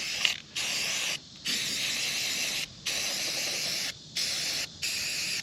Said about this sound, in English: I'm going to cover over it in spray paint like I did here